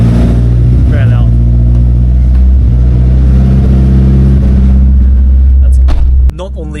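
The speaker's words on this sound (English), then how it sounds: "Basically straight pipe with a Jasma muffler." Project car with an essentially straight-pipe exhaust and a Jasma muffler, very loud, a constant close heavy rumble held steadily before it cuts off near the end.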